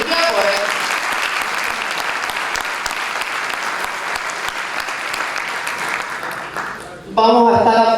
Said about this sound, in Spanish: Un aplauso para Cintia